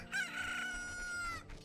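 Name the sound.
chicken clucking in the video game Zelda: Ocarina of Time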